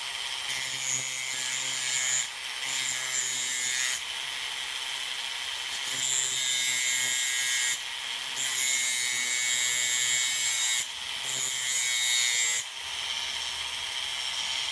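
A Tamiya Mini 4WD MA chassis part is trimmed by hand in a series of about six rhythmic rasping strokes, each lasting a second or two, close and fairly quiet.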